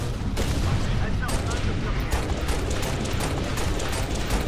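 Dense, continuous gunfire from the video game Halo Reach, rapid overlapping shots and booms filling the whole stretch at steady loudness, with a voice faintly underneath.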